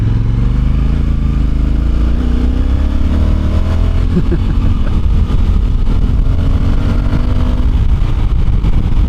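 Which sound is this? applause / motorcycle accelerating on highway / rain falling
motorcycle accelerating on highway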